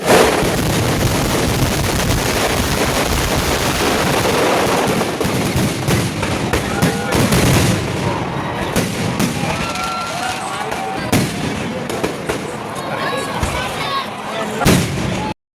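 Fireworks display at a crowded Kizhur market festival, a loud, continuous barrage of crackling pops and booming bursts that runs throughout, with crowd voices mixed in beneath.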